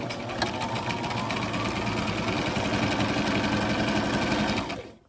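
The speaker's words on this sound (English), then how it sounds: "So right now I'm just going to sew 1/4 inch all the way around" A sewing machine stitching a quarter-inch seam around a reversible ironing board cover runs steadily at a fast, even whirring hum with rapid needle ticking, close and continuous before stopping at the end.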